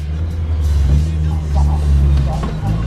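A car rumbles and revs close by while pulling out over a curb, a steady low engine drone with brief scraping bursts, as people talk over it.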